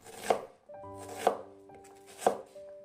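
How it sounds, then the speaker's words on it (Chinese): A knife chops half an onion into small dice for a peanut dish, three sharp, evenly spaced strikes on a cutting board, close and clear, with faint tonal background sound between cuts. "再改刀切成洋葱丁"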